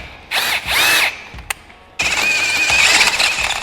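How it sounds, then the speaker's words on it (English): A power drill bores a 5/8 hole for a center radius rod on a 2023 Segway Villain, with two close, loud bursts of whining drilling, then a short click and a longer sustained run. "now that we've drilled that out for our center radius rod to 5/8"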